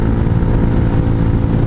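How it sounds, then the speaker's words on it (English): Honda Hawk 250 motorcycle with a loud aftermarket exhaust runs steadily at close range, a dense low rumbling drone that holds level and fills the whole moment without pause. "I'm sorry if I'm yelling, but this exhaust is loud."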